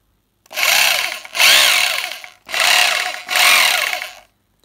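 A 2004 German-made Bosch GBH 2-24 DFR rotary hammer, in good working condition, runs in four loud, close bursts of steady whining motor drone, each about a second long, separated by brief pauses and with no talk.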